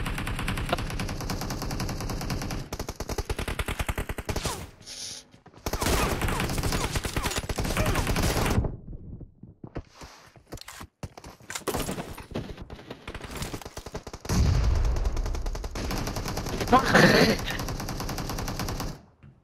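Gunfire in PUBG Mobile, including M24 sniper shots in a team deathmatch, arrives in several long dense stretches of rapid, loud shots separated by quieter gaps, close and dominant throughout.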